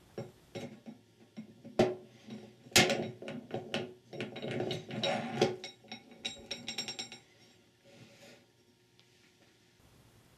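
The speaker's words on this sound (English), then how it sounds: "install the carrier into the ring gear." A Ford E4OD/4R100 transmission planet carrier being fitted into its ring gear, giving a run of metallic clicks, clinks and ratcheting clatters that come close and sharp, then fade to quiet near the end.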